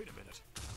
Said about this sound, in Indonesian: Wih, ada ledakan guys.